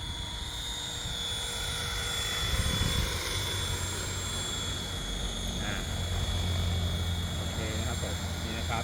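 A size 500 RC MD-500 model helicopter runs steadily during a battery test, its rotor and motor giving a constant whine and whir close by, with someone talking at moments over it.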